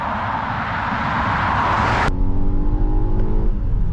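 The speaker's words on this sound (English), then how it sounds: "So just pull out onto here, and then it's not a very noisy car." A Volvo XC90 T8 plug-in hybrid pulls away and accelerates, a smooth rising whir and road roar heard from inside that drops abruptly into a lower, steadier drone with faint whine tones, no talking.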